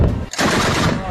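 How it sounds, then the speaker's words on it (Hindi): Anti-aircraft guns fire continuously in a war zone, a loud, dense stream of rapid automatic bursts that runs almost unbroken after a brief gap near the start. "हमला होते ही अफगानिस्तान की एंटी एयरक्राफ्ट गनें एक्टिव हो गईं और लगातार फायरिंग होती रही।"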